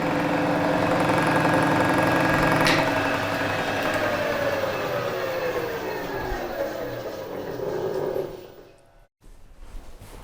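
A milling machine cuts metal with coolant on a Vevor HS225 tilting table set at 20 degrees, a loud steady grinding whine with a sliding tone that winds down and stops near the end.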